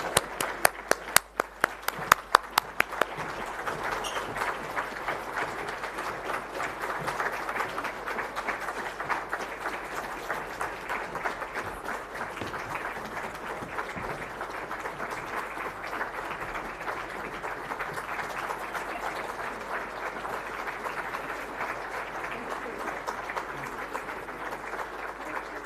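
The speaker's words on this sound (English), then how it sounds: "keep that applause coming" Audience applause fills a conference opening session, a sustained wash of many hands clapping steadily at moderate level, with a few louder individual claps standing out at the start.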